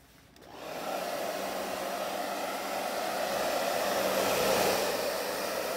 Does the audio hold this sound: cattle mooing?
no